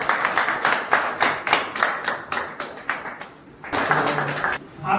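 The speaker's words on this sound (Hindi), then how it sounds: "एक बार इनके लिए जोरदार ताली बजाएं" Clapping from a conference audience honoring a guest: brisk, fairly close hand claps in an uneven rhythm that briefly thins out, then swells again into fuller applause.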